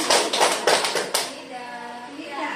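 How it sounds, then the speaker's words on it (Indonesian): Group of people clapping four times in a classroom-style clapping game, a quick burst of sharp claps close up, followed by quieter room noise and faint murmuring voices. "Tepuk 4 kali."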